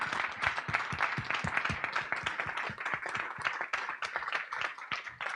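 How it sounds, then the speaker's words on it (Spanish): A small audience at a regional dialogue event in Norte de Santander claps, with distinct individual hand claps forming a sparse, uneven patter that stays fairly quiet and close. "Un aplauso."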